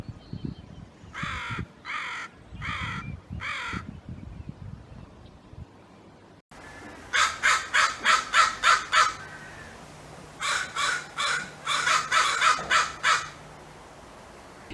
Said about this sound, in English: you can listen to these crow vocalizations that we provided in the video